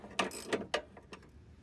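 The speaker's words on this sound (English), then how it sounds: "use an 18 millimeter socket to remove the remaining 2 bolts that secure the U-link bracket to the floor" A ratchet with an 18 mm socket works on the U-link bracket bolts at the floor of an S197 Mustang rear suspension, giving a few sharp, close metallic clicks in an uneven rhythm, louder at first and then fading.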